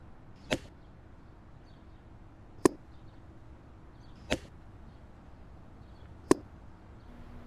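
Four sharp air rifle shots from a Steyr Pro X, the first followed by a slight pause, then the rest in a quicker sequence, crisp and distinct over a quiet background.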